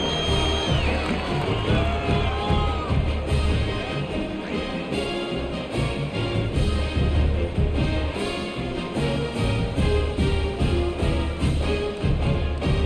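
Simulated stadium crowd at a Texas college football game in EA College Football 25, a dense continuous roar of cheering and shouting that stays loud and steady throughout, no distinct voice standing out.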